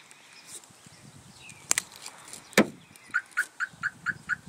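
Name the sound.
security alarm going off after pressing panic button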